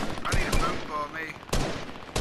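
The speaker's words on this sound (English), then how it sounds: "Oh, they're shooting down there." Gunfire in the video game Fortnite crackles in several sharp bursts of shots, with a pause in the middle and a final cluster near the end, over a busy game soundscape.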